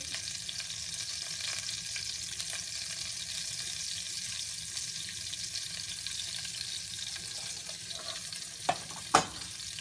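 Hot oil sizzles steadily and close for a moist dal seasoning as turmeric goes in, a continuous bright frying hiss with a couple of sharp clinks near the end and no talking.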